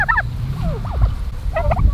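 Farm turkeys in a pasture give several sharp, warbling gobbles in quick bursts, close and loud over a low rumble of outdoor background noise.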